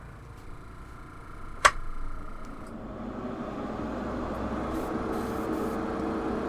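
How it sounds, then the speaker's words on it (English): A Badger 200 airbrush sprays paint inside a paint booth, with the air compressor and booth fan forming a steady broadband hiss and hum throughout, plus a sharp click near the start. "So you're going to hear my air compressor and also the fan in my paint booth here in just a moment"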